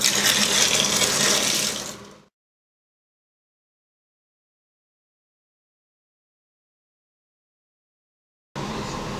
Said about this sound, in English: now we need to top it up with cold water up to the 9 litre mark on your fermentation bucket